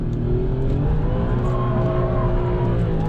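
An Alfa Romeo Giulia Quadrifoglio roars loudly on a race track, its engine droning steadily at high revs with rising and falling pitch as it accelerates, heard from inside the car.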